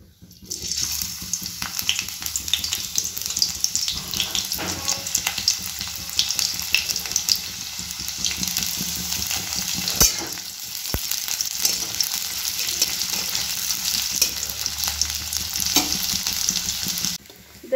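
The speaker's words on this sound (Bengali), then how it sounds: "আমি কড়াইতে অয়েল নিয়েছি, এবার অ্যাড করে দিচ্ছি অনিয়নগুলো।" Onions tossed into hot oil in a wok crackle and sizzle loudly and continuously for several seconds, a dense close hiss with scraping stirring strokes and occasional sharper pops, no speech.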